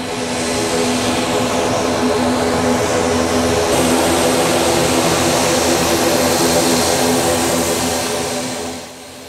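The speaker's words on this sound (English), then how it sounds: "Alliance Air's ATR-72 with its airline officials and passengers from Chennai touched down at the Jaffna" Alliance Air ATR-72 turboprop landing at Jaffna International Airport, a loud steady propeller and engine roar holding for several seconds before easing at the end, with no voices.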